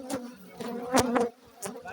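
Honey bees buzz close by at an apiary, their droning hums rising and fading as individual insects pass near, with faint voices in the background.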